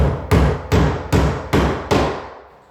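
Five sharp, evenly spaced hammer blows drive fasteners through drywall into a wooden stud. Each blow is loud and close with a short ringing decay, and the last one fades out.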